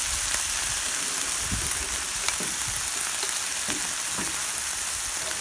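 Korean BBQ pork stir fry on a Blackstone 36-inch griddle sizzles and steams after water is added, a steady close hiss broken by scattered crackles and pops.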